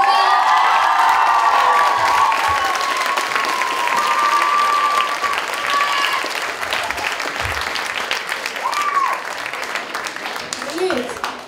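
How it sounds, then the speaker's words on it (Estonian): At the Sytevaka Sokk 2014 event, an audience gives loud, sustained applause with whoops and shouted cheers for Aleksander Linn, the clapping steady throughout while scattered voices rise and fade. "siis me teeksime ühe aplausi veel Aleksander Linnule."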